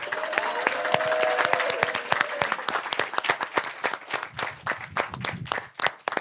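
Audience applause on a live French game show finale, a dense burst of clapping that starts full and thins into scattered claps by the end.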